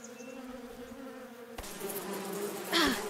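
Bees buzzing around a hive in the video game Above Snakes, a steady droning hum at moderate volume that swells louder near the end, with no talking.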